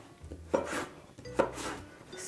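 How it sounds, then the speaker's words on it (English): A knife cuts through sweet potatoes on a cutting board with two distinct, fairly close strokes about a second apart, each a short woody thunk followed by a scraping rasp. No one speaks. "I need to chop these like I chop onions"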